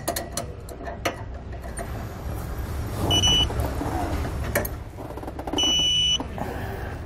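Suspension hardware on a 2017 Grand Design Reflection trailer being torqued with a 19 mm socket and wrench: ratcheting clicks and metallic clanks, with brief high squeals of metal, close and moderately loud.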